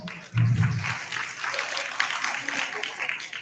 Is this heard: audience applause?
yes